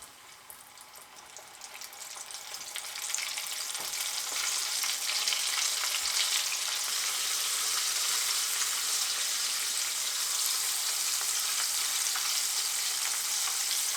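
Yellow perch fillets frying in a pan, a broad, steady hiss of hot oil that swells after a few seconds and then holds constant, close and alone without talk.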